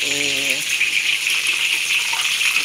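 Breaded chicken breast fries in hot oil with loud, dense sizzling and bubbling close up, while a voice talks briefly at the start.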